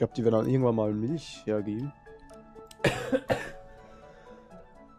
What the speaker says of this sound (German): Gesundheit. Nee, Husten.